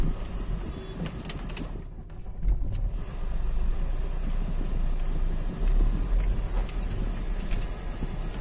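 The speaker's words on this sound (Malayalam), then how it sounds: "ഇതാണ് ഗൈസ് ഇവിടുത്തെ ട്രാഫിക് ഉണ്ടോ." Street traffic moves along a small road in a busy Bengaluru shopping area, a steady wash of passing vehicles with pigeons cooing nearby.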